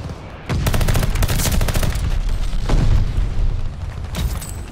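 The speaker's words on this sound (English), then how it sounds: "Glide bomber assist coming in." A Call of Duty glide bomber killstreak strikes the Meadow map with loud, close bursts of rapid explosive fire and rumbling blasts in several waves, no talk over them.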